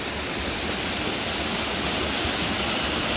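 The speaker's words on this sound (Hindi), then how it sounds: "बरसातों में पहाड़ों की तरफ आने का एक मज़ा ये भी रहता है, कहीं भी आपको आबशार दिखाई देने लगते हैं।" Mountain waterfall in the rainy season at Dhanolti, Uttarakhand, a loud, steady, broadband rush of falling water with no pauses.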